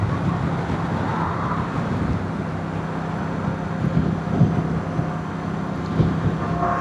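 Steady wind roar buffeting a rider on a 2025 Moto Guzzi Stelvio motorcycle cruising at 70 mph, a constant low rumble with engine drone beneath and occasional gusty thumps, continuous and close to the microphone.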